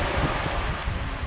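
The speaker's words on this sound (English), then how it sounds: "Big waves coming in." Steady, loud rush of ocean waves and wind noise aboard a sailboat at sea, continuous broadband surf with no speech.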